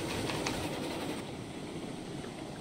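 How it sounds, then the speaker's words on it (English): A model freight train runs on its own around a big, wide turn of track, giving a steady, quiet rolling rattle with faint clicking from the wheels. "I just brought the train on auto mode so it comes all the way around this big, massive turn"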